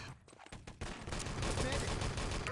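SMG fire in the game Enemy Territory during a competitive match, rapid overlapping bursts from several guns rattling continuously and loudly, with a voice talking underneath.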